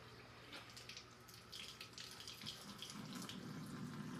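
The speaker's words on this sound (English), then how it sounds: "We got our regular tap water on." Regular household tap water runs steadily from a faucet in shower mode or normal flow, a continuous hiss and splash close by that grows slightly fuller partway through, with no talking.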